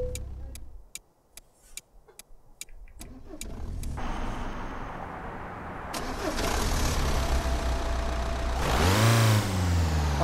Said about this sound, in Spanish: encendemos por aquí el motor